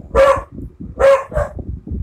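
A pet dog barks loudly and close by, two sharp barks about a second apart followed by softer yips and whimpers.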